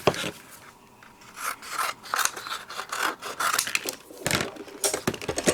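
A crafting card is cranked through a Diamond Press die-cutting machine with a vintage Santa die, giving steady scraping and rubbing with repeated gritty strokes and clicks, close and moderately loud throughout.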